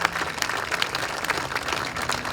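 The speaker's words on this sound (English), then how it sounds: "I think he deserves a big round of applause" Dense audience applause at a Nikola Tesla Day celebration, a steady wash of many hands clapping, loud and continuous over the short span.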